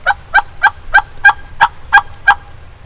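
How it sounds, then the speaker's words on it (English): A wild turkey in South Florida gobbles close by in a quick run of about nine sharp, evenly spaced calls over a low background rumble. "Jessi, there's a turkey coming."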